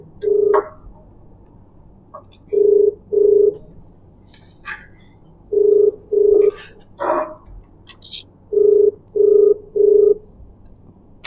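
A phone call rings out unanswered on the line, its ringback tone sounding in repeated double bursts at a steady pace over a faint background hiss.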